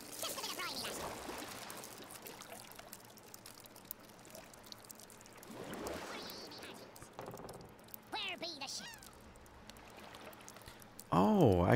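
Splashing and pouring water from the video game Worms Revolution, several rushing bursts of moderate loudness spread over the stretch, with a steady game backdrop and someone talking in between.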